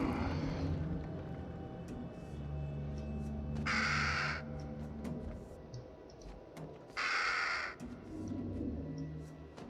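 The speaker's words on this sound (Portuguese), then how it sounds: "Passarinho do baralho." Crow cawing in the horror game Little Hope, two loud harsh caws a few seconds apart over a low droning ambient backdrop with faint ticking.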